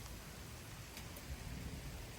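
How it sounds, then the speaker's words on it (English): Rain from a severe thunderstorm with heavy downpours and 30 mph wind gusts in Frisco, a faint, steady wash of noise with a low rumbling undertone and a couple of brief crackles. "As you can see, as you can hear, it's raining."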